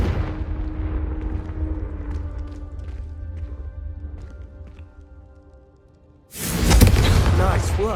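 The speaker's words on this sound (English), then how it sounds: "a Confringo cast travels a bit farther than that of a spell like Incendiary" The Confringo fire spell in Hogwarts Legacy goes off near the end as a sudden loud burst, following a quieter stretch of low rumble and scattered clicks.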